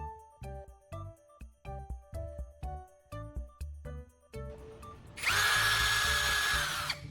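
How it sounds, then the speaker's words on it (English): A handheld power drill grinds and sharpens the tip of a carbon rod against sandpaper, starting with a series of short, stop-start bursts of motor whine before settling into one loud, continuous high-pitched grinding run close to the microphone. "I use my power drill and some sandpaper to carefully grind and sharpen the tip of the drill bit."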